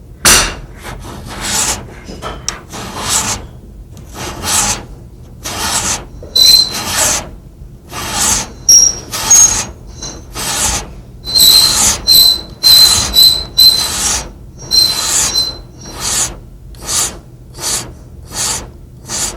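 A metal file rasps against the back of a pistol slide during gunsmithing work, in repeated short strokes with quiet gaps between, some strokes adding thin squeaky scrapes, close and fairly loud.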